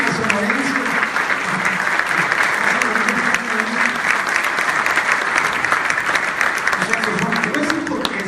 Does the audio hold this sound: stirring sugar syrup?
no